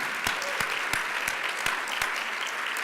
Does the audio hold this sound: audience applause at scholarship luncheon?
yes